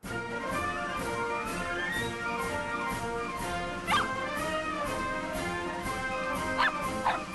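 Dogs in a spring garden give a few short, fairly faint yips and barks, mostly in the second half, against a quiet outdoor background.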